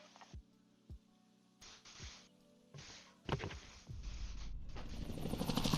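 Helicopter in Call of Duty Warzone on Xbox Series X, a steady low rotor hum running throughout beneath bursts of game effects and impacts, swelling louder toward the end.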